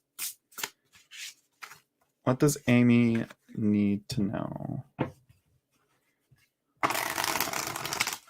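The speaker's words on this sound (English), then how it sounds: "I'm like shuffling the cards here." Tarot cards are shuffled in short, brisk bursts of riffling, alternating with a person's speech and ending in a longer, louder shuffle near the close.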